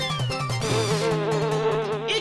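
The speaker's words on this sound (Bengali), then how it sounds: "এ কি, ওটা তো মৌচাক।" Bees buzz around a beehive in a cartoon, giving a steady, close, high droning hum that wavers in pitch throughout, with no talking.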